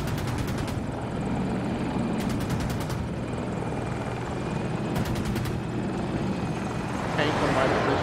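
A helicopter flies in a squad-based military video game, its rotor drone a constant loud roar filling the scene, with periodic bursts of rapid clicking and radio chatter in the background.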